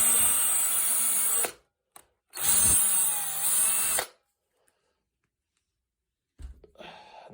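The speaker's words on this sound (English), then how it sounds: "Same thing again, drill and hole." A power drill bores a hole for a model railway traffic light in two loud whirring bursts separated by a short pause, then goes quiet before a softer rustle at the end.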